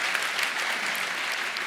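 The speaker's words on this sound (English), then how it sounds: "You can clap for that if you want" Church congregation clapping, a dense, even wash of applause from many hands, sustained and fairly close for under two seconds with no voices over it.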